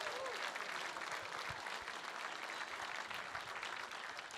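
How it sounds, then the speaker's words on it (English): A gala audience breaks into loud, sustained applause for supporters at a fundraising auction, many hands clapping together in a steady wash that stays even throughout, with faint murmurs underneath. "How about a big round of applause for our"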